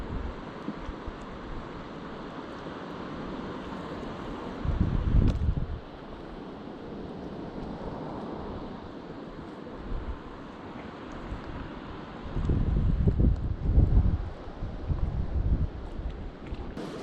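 Wind and heavy rain lash a small fishing boat at night during squid jigging, a constant rushing hiss with louder buffeting gusts hitting the microphone.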